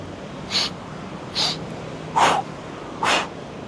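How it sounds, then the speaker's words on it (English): Four heavy, rhythmic breaths puff out at steady intervals during a rope flow exercise, close and airy, each a short forceful exhale over faint background hiss. "if you can listen to my breathing"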